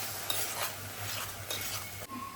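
Onion, green chilli and ginger paste is stir-fried in a pan on a gas stove. A soft, close sizzle runs beneath a few scraping strokes of a spatula against the pan, quiet and brief, with no talk.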